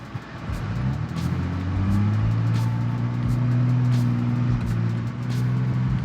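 Engine of a 2022 Ford Bronco Raptor driving slowly on a beach in off-road mode with the rear differential locked, a steady low droning hum with slight pitch shifts, close and continuous without speech.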